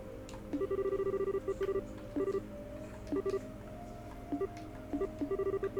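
A telephone call arrives over speakerphone in The Legend of Heroes: Trails in the Sky, heard as quiet bursts of short electronic beeps in uneven clusters, separated by brief pauses.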